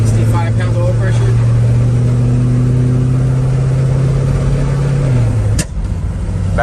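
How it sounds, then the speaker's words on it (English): A car engine with noisy lifters idles with a rising and falling hum, then a single sharp backfire pops out near the end, up close and loud. "Backfire? Backfire."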